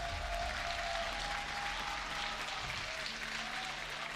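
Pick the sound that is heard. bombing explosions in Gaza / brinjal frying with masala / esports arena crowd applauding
esports arena crowd applauding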